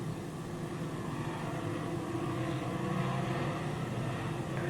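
Dirt modified race cars run nose to tail at a speedway, a dense, continuous engine roar heard from a distance as one steady blended drone without breaks.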